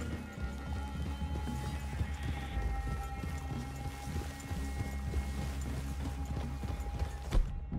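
Horse hooves clip-clop in a steady walking rhythm in the video game Red Dead Redemption II, moderately quiet under a constant background bed with faint creaks and jingling and no talk.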